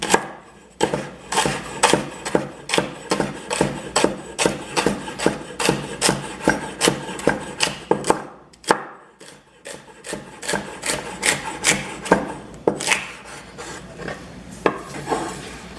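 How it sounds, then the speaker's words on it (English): Knife chopping garlic on a wooden cutting board for a chicken and vegetable stir fry, a steady run of sharp, close taps in a quick rhythm, with a brief pause partway through and then a few more scattered chops. "Cut the garlic."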